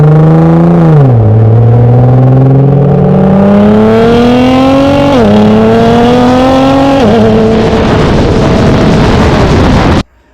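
A Nissan GTR accelerates hard through several gear shifts, its loud engine note rising, dropping at each change and climbing again, heard close from behind the car before cutting off abruptly.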